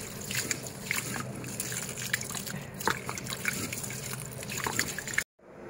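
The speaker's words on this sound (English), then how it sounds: "So rinse your rice, rinse it properly or wash." Water sloshing and trickling with small clinks and splashes, as rice is rinsed by hand in a bowl, close up.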